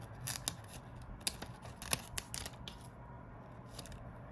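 Scissors snip through excess glitter heat transfer vinyl for a Cricut shirt project, giving a few quiet, close, crisp cuts spread over a faint hiss with no talk.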